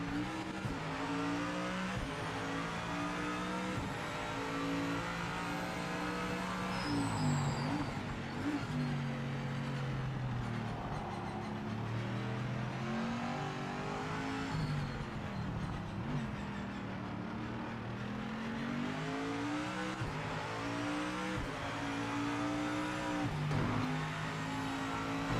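A Mustang race car engine roars continuously in the Project Motor Racing video game, loud and close, with rising and falling revs through gear changes and occasional tire squeal.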